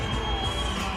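A crowd at a boxing event reacts to boxer Ramiro Jimenez from Mexicali, a steady, fairly loud wash of cheering and murmuring with no single voice standing out.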